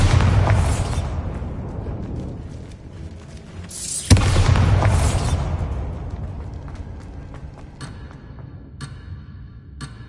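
Bombarda spell explosions in a Harry Potter video game: two sharp blasts, each followed by a long rumbling decay, with light ticking debris sounds trailing afterward.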